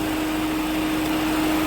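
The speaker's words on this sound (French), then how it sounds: "Maintenant on a le ventilo qui s'enclenche" Car radiator cooling fan running, a steady broadband whoosh with a constant hum, close and loud throughout, on a petrol car being checked for an ignition fault with a failed coil.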